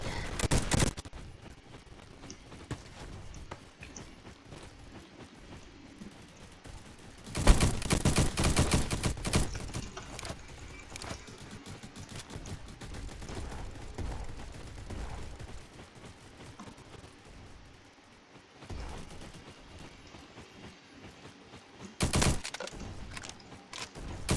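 Gunfire in a video game: a long stretch of dense, crackling automatic fire and fusillades with louder bursts scattered throughout, over a constant noisy backdrop.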